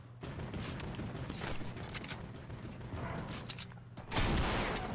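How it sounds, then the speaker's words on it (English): Mounted turret gunfire in a video game: rapid, repeated bursts of shots over a constant rumble, with a heavier, louder volley near the end. "these mounted turrets are a little OP"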